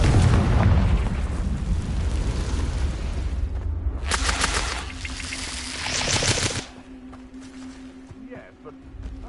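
A spell-blast explosion in a wizarding video game erupts as a loud, broad burst lasting a few seconds, over a continuous rumbling game soundscape, then cuts off into quieter ambience.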